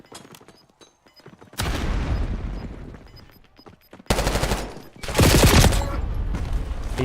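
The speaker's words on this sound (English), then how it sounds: "He's shooting me before I even seen him." Gunfire in GTA V during a UK police roleplay: loud bursts of rapid automatic fire and fusillades that start and stop abruptly, with a quieter stretch of scattered shots in between.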